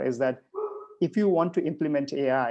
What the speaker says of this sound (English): I think that's my dog, sorry.